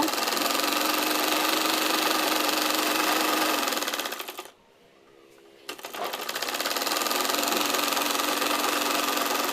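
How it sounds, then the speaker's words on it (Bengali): A sewing machine runs steadily and loudly, stitching the corner of a printed three-piece kameez, stopping briefly in the middle before starting up again. "আমি কাপড়টাকে ঘুরিয়ে নিয়ে এবার একেবারে কর্নারে আরেকটি করে সেলাই বসিয়ে দিচ্ছি"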